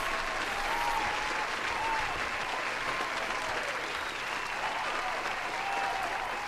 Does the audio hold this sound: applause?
yes